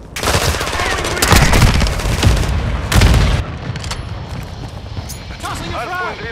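Frag grenade thrown and going off in Call of Duty: Modern Warfare II multiplayer amid a loud, busy firefight, with heavy bursts of gunfire and booming blasts in the first three seconds, then quieter ambience and game voice callouts.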